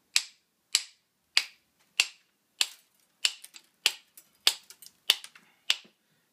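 Ferro rod mounted on a knife sheath struck repeatedly, giving a dozen crisp, bright scraping clicks, sparse and evenly spaced at first and then faster and irregular, close and fairly quiet with no talk.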